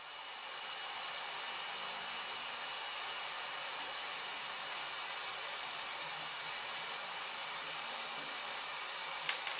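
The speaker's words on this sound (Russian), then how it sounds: "Сейчас фен тогда включим." A hot air rework gun blows a steady, loud rush of air that holds constant throughout, with a few faint clicks near the end.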